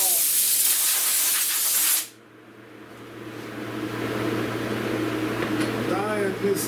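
An aerosol of SEM Color Coat dye sprays in a loud, continuous hiss onto a car dash for a 1970 Buick Wildcat interior, cutting off after about two seconds and leaving a quieter room hum with faint handling noises.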